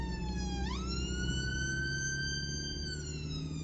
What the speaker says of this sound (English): We have an ambulance here.